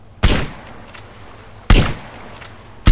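Three sharp gunshots ring out in Grand Theft Auto: San Andreas, spaced over about three seconds, each a loud broadband crack with a short decaying tail against a quiet game background.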